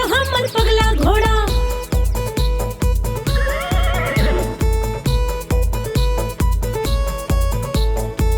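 A horse neighs and whinnies loudly and close, over a steady, fast rhythmic beat of repeated thumps like clip-clopping music running through the whole stretch.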